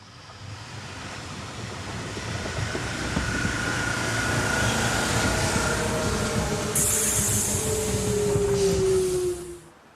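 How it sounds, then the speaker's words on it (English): A Marseille-based Class Z 7300 electric unit arriving from Montpellier at a small station rolls in with a steady, rising rumble of wheels on rail and a long, thin brake squeal, then falls quiet as it stops. "Here a Marseille-based Class Z 7300 unit arrives from Montpellier"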